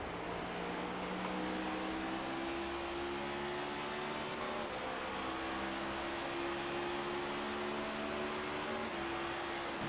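A race car's engine in a championship cup series race, heard from a hood-mounted camera, droning steadily at close range with sustained harmonic whine and brief pitch drops as it shifts down, alongside other cars running nose to tail.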